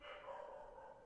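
A pet dog barks or yips steadily through the whole moment, fairly close and moderately loud, in a room where trading cards are being opened.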